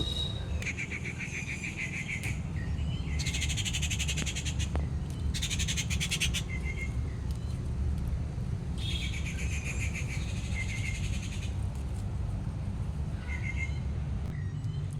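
Sparrows, crows and cuckoos call outdoors on a rooftop, bursts of bright chirping and calls recurring in clusters over a steady low background rumble.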